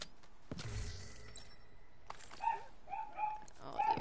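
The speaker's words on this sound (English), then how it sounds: "He's barking again." A dog barking in the video game The Division 2, a few short yelps spaced apart near the end of a quiet stretch with a sharp crash early on.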